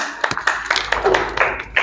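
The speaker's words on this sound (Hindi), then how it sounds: "इन सभी बच्चों के लिए एक बार ताली हो जाए" A small group claps for children at the close of an interview session, sparse, uneven hand claps close by in a quick irregular rhythm lasting under two seconds.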